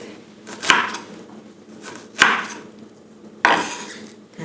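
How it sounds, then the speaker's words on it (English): A knife chops food on a wooden cutting board for pork adobo nuggets, three loud, evenly spaced thuds about a second and a half apart, close and without speech. "Chop it."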